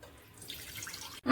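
Water poured into a pan on a lit stove to boil macaroni, a short soft splashing stream lasting about a second before a louder sound cuts in at the end.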